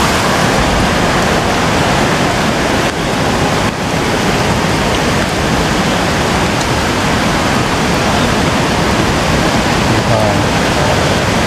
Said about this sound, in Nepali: खर्दु खोला निकै ठुलो बगिरहेको हामी देख्न सक्छौँ